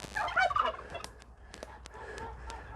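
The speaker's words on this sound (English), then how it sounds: "yeah, the geese are out already." Geese calling outdoors in a noisy, squawking burst up close at first, followed by a few sharp clicks and knocks as things quiet down, with no talking.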